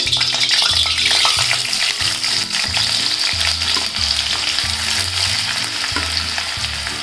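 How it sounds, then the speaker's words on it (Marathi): Chopped onion sizzles and crackles steadily in hot oil in a pan for egg bhurji, loud and close, with a rhythmic low thumping stirring through the frying. "तेल तापत ठेवलं आहे आता पहिला कांदा टाकून घेते"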